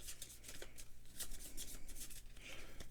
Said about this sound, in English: I'm just going to keep giving it a couple more shuffles here just to make sure it really